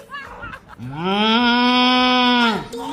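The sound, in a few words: person imitating a cow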